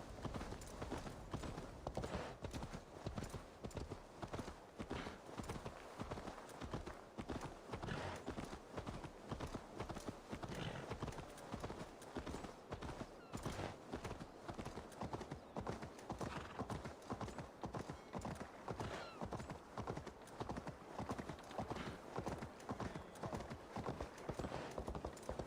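Rhythmic hoofbeats of a horse in the video game Assassin's Creed Valhalla pound steadily at a galloping pace throughout, close and regular, with no talking over them.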